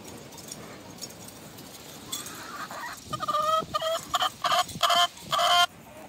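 Backyard hens being fed freeze-dried treats cluck close by, starting with quiet scratching and rising into a series of loud, rhythmic clucks and squawks.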